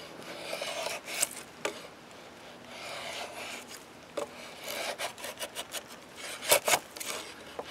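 Wood being peeled and pared with a hand blade on a simple shaving ladder in the woods, heard as close, repeated scraping and rasping strokes, some quick and some dragging, with no talking over them.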